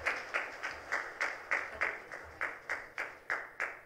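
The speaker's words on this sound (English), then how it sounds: "let's give a big round of applause to Mr." A round of applause at an ISHRAE live event, heard as a steady series of about a dozen separate hand claps, quite faint and evenly spaced, with no talk over them.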